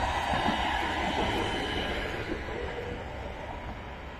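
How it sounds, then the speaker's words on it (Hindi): A tram rolls along a city street in Frankfurt, Germany, making a steady, fairly loud rumble with rail noise that fades slightly as it moves on, with no talk over it. "इंग्लिश में इसको ट्राम कहते हैं।"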